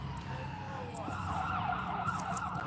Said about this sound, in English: Shout out to the transformer pole in the background and the ambulance going by.